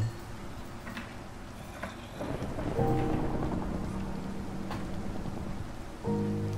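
Thunder rumbles and heavy rain patters steadily in a Minecraft thunderstorm, with a low rolling boom swelling midway over the continuous hiss of rainfall.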